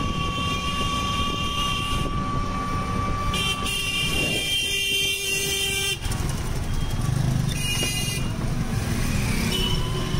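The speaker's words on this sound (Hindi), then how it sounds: "कट मारता हुआ मोटरसाइकिल वाला भाई आगे निकल गया" A motorcycle cuts past through busy city traffic in Kanpur's Loha Mandi, its engine blending into a loud, continuous roar of vehicles, with horn toots and rumbling throughout.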